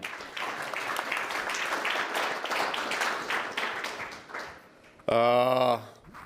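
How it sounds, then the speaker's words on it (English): Applause fills a conference hall for the Deputy Prime Minister taking the floor at the Munich Security Conference, a moderate crowd clapping for about five seconds before fading, then a short loud tonal chime or jingle. "And we can give you a round of applause, perhaps, for being here"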